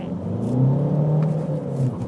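A 2013 Volkswagen Jetta TDI diesel accelerating hard from a standstill toward 60 mph, its engine holding a steady low droning rumble that rises gradually in pitch, loud and close throughout with no talking.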